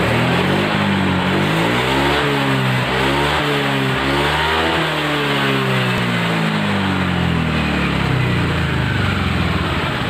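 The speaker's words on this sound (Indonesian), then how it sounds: "Kita coba mau tes dulu mesinnya seperti apa." A Honda Vario scooter engine revs up and down repeatedly while parked, loud and close, its pitch rising and falling in steady waves over about ten seconds.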